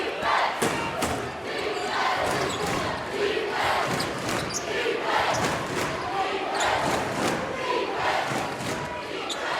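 A big basketball crowd at Carnesecca Arena roars throughout a college game, with repeated ball bounces and thuds on the court and a commentator talking over the noise.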